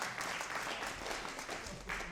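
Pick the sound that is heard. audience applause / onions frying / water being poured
audience applause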